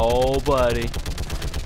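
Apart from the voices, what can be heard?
turret gunfire in the video game Mass Effect 3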